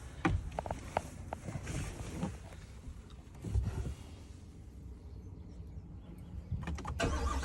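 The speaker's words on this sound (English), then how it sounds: "Maybe let you hear the exhaust for just a second." A 2023 Ford F250 Super Duty Lariat Ultimate Tremor with the 7.3 Godzilla V8 starts up, and a deep rumbling exhaust idles close by with a few sharp clunks and bumps mixed in.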